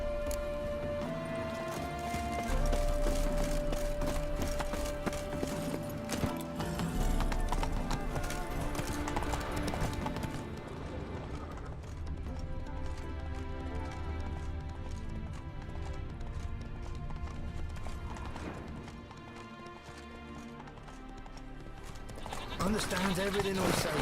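Horse hooves clip-clop steadily through a roleplay scene in The Witcher 3, a rhythmic trot with an occasional whinny, mixed with game music and characters talking throughout.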